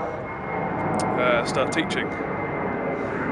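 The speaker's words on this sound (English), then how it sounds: "If you can hear the planes, you can hear one in the background there." An airplane flies overhead near Narita Airport, a steady broad roar in the background while a person talks over it.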